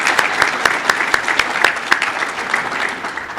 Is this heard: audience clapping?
yes